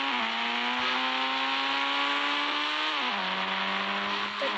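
A Scorpio car's engine in a video game holds a steady, loud synthetic drone with a stable pitch. The tone steps down slightly near the end, with no talk.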